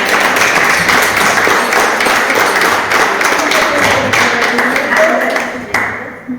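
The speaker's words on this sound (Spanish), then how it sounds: "Pues un aplauso gigante." Seminar audience breaking into big, lively applause, dense clapping with sharp individual claps audible throughout, fading toward the end with a few last claps and a voice starting to speak.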